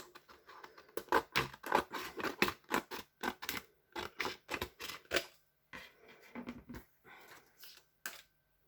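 Paper being cut to size for a die cutting machine: a quick run of crisp snipping and rustling strokes, close and fairly loud, which slows to sparser cuts and ends in a single final snip.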